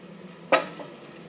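Rice cooking in a pan with added alcohol, heard as one short, sharp stir-and-sizzle burst over a faint, low background hiss, with no voices.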